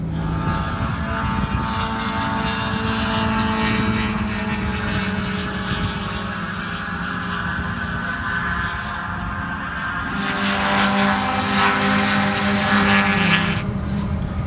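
Continuous loud roar of Honda S2000 race cars lapping Daytona Speedway, a steady engine drone with a rising pass of a nearer car toward the end, no talk.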